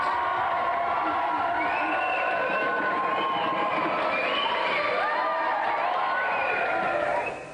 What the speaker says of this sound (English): Another round of applause then for our three contestants.